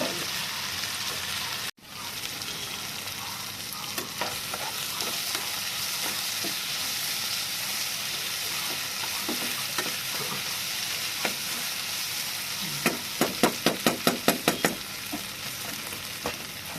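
Small vadiyalu sun-dried lentil dumplings fry in hot oil in a pan, a steady close sizzle running throughout, with a quick series of sharp clicks near the end.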